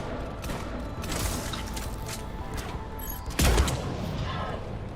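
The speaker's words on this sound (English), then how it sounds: "finally opportunity to use sniper rifle" Sniper rifle fire in the Mass Effect Legendary Edition video game, a muffled in-game shot with a heavy low thump about two-thirds through, over a dense layer of game ambience and effects, no speech.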